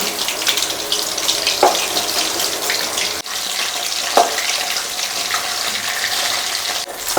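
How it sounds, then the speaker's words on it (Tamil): Chicken 65 pieces deep-fry in hot oil with a loud, continuous bubbling hiss. A couple of faint clinks rise over the steady frying. "இதே மாதிரி மீதம் இருக்கிற எல்லா சிக்கனையும் நம்ம பொரிச்சு எடுத்துக்கலாம்."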